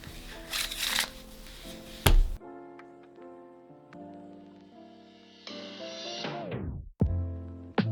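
Playing cards shuffled by hand, a broadband riffle burst early on, then a sharp snap and a long smooth run of cascading cards that tapers off, followed by another snap and more card noise, close and fairly quiet with no talking.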